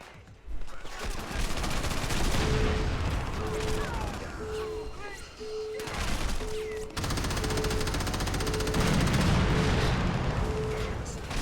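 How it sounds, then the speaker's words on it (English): Rapid gunfire bursts and booming explosions from the Crackdown video game, continuous and loud, with a repeating electronic beep running through the barrage and players talking over it. "Explosions, explosions, explosions."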